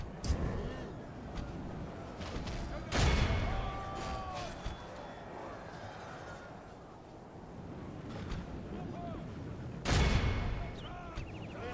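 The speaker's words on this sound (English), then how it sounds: "Pistoliers are up firing again." Pistoliers of the Empire fire their guns in a Medieval 2 Call of Warhammer battle, with sharp shot bursts near three and ten seconds over a constant din of distant battle noise.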